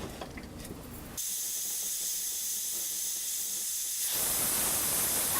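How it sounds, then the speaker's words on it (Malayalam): Pressure cooker venting steam while cooking beef, a sharp, loud hiss that cuts in abruptly after a softer opening, holds steady for a few seconds, then swells brighter and rises toward the end. "ആദ്യത്തെ വിസിലിപ്പോൾ അടിച്ചു"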